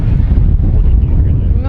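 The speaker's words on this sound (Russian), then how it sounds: "не будет уже такого ветра, который здесь дует" Wind gusting at a seaside beach in Anapa, a steady low, buffeting rumble against the microphone that holds close and loud for the whole short stretch.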